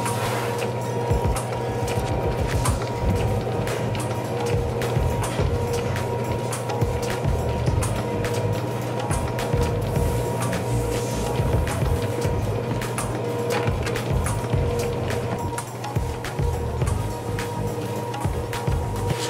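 A dango-making machine turns out round rice dumplings already pushed onto skewers, running as a steady, rhythmic mechanical clatter with dense repeated clicks over a constant low hum, close and continuous throughout.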